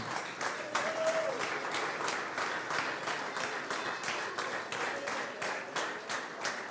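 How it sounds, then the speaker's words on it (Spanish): A church congregation applauds during a worship celebration, giving rhythmic, unified clapping in steady beats at a moderate distance. Faint voices run underneath. "Denle un aplauso al Señor, hermano."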